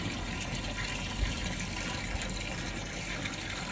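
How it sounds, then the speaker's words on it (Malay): Water trickling and splashing steadily from a small fish pond in a contemporary garden courtyard, a continuous close wash of running water with no talk. "Tu yang kita nampak dengar bunyi-bunyi air tu dari sini."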